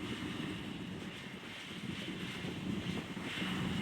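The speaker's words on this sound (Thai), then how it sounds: "แหมลมแรงเหลือเกินครับ" Strong wind blowing across open rice fields in Nang Rong, Thailand, a steady, loud roaring rush that buffets the microphone throughout, with no voices.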